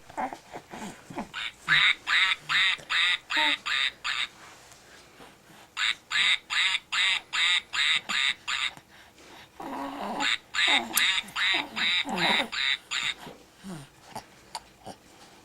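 A battery-operated toy duck quacks in rapid rhythmic bursts, running in two long runs of many quick squawks, close and loud, with short pauses between the series.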